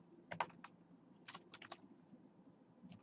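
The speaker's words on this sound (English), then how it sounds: "So I'm actually going to type in bottom" Keys tapped on a computer keyboard while entering CSS code in Dreamweaver, heard as short clusters of clicks with pauses between bursts, fairly faint and close with no talking.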